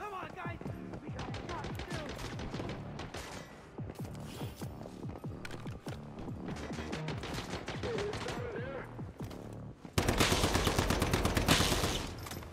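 Sniper and gun fire from a rooftop enemy in the video game Once Human, rapid repeated shots in dense bursts layered with game sound effects, the final seconds turning into a louder, harsher burst of noise.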